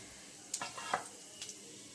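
Bay leaf, cardamom and cumin seeds sizzle in hot oil as a tempering for a jackfruit and shrimp curry: a soft, steady hiss with a few faint stirring scrapes, heard close but quiet.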